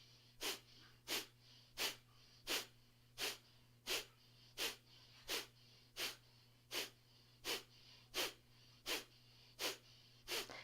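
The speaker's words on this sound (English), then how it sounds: "short, crisp, clean exhalations through the nose" Sharp, pumping yoga exhalations forced through the nose, about sixteen short crisp bursts in a steady, even rhythm, close and moderately loud over a low constant hum.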